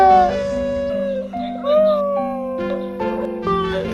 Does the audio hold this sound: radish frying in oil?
no